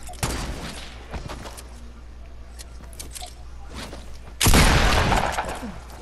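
Gunfire in the battle royale game Fortnite: scattered sharp shots and impacts over a quiet stretch, then a loud burst of rapid fire near the end that trails off.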